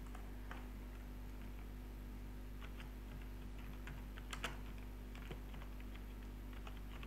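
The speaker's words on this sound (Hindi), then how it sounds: "अब मैं चाहता हूँ कि मैं इसमें लिखूँ ऑनलाइन ट्यूटोरियल" Text being typed on a computer keyboard, heard as scattered soft key clicks over a steady hum, with a small cluster of sharper taps near the middle and no talking.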